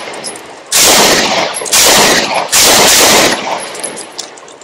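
Canik Elite S pistol firing its second magazine on a combat shooting range: three long, loud bursts of rapid shots, each about a second, close and harsh, with brief quiet gaps and no talk.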